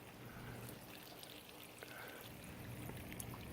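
Water flowing through one-inch pipes into newly plumbed aquaponics growbeds, a steady low trickling and pouring wash that holds even and fairly quiet throughout.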